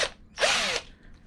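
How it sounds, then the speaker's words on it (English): Hand drill boring a hole into a handmade fishing lure: a short whirring burst, a brief pause, then a longer steady grinding run, close up with no talk. "I'm going to drill that hole out now. And yes, it's a hand drill."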